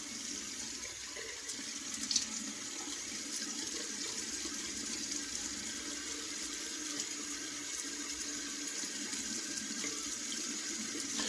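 Tap water runs steadily while a beard is rinsed during trimming, reshaping a Van Dyke, with a continuous broadband splashing hiss close by and no talking.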